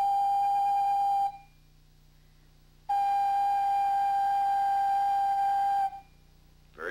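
A Native American flute holds a steady G in two sustained, clear tones, each lasting a second or more, with a silent gap between them. No voice or other sound accompanies the notes.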